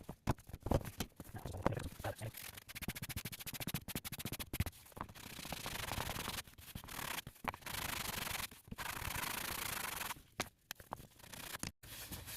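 Hand sanding of a hastily cut wooden piece, likely a 9.5-inch square, for a Halloween build: steady, close rasping strokes repeated in uneven bursts with brief pauses, no talking.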